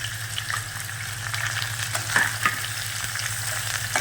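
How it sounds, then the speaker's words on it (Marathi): Chopped onion sautés in hot oil in a pan with peanuts, giving a steady close sizzle with occasional stirring scrapes and small pops. "छान कांदा परतू द्यायचा"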